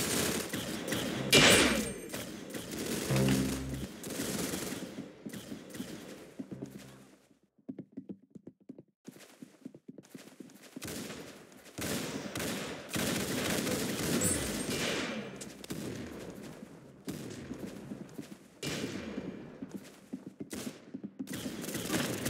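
Gunfire from a first-person shooter game crackles in bursts and scattered single shots over a busy battlefield din, drops out briefly, then resumes with dense, loud volleys.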